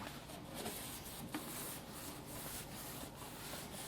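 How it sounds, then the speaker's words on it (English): Soft, quiet wiping strokes on the wood of a Yamaha P22 school piano, a faint rhythmic rubbing repeated several times close by, with no talking. "just gentle little wipes that catches all the dirt and grime"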